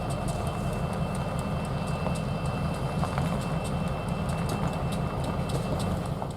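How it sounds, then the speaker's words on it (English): Trio of orange and black Buffalo & Pittsburgh SD60 wide-cab diesel locomotives working on point, a steady loud low rumble of engines with faint wheel clicks throughout, with no voices. "ourselves a trio of orange and black SD60 wide-cab locomotives on point"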